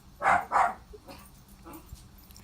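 A dog gives two loud, close barks in quick succession, followed by quieter whimpering sounds.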